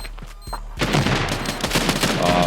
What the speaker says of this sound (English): Only got 4 bullets left in the magazine for the M4. Gonna use them to try to drop Sim.